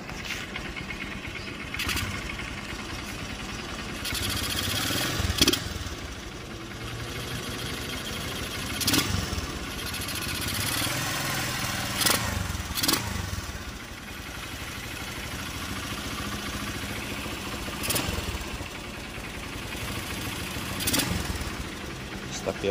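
A Honda XR150L motorcycle fitted with a mushroom air filter and PZ27 carburetor idles steadily nearby, a continuous engine drone with occasional sharper blips, while someone talks over it.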